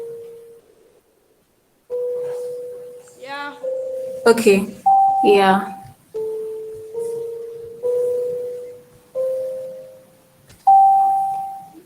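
Single piano-like notes from a Scratch project play one at a time in a slow sequence, each a clear tone that decays, and a voice briefly speaks between them.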